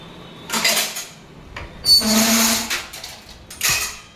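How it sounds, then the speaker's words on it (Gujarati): Metal utensils clatter and clink in several short bursts as a drawer slides, close by with no talking. "એ વાસણ હવે ગોઠવીને આ ડ્રોરમાં મૂકવાના છે"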